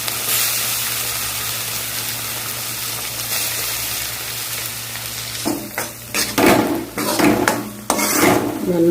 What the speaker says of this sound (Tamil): நல்லா அப்படியே வதக்கிக்கணும்.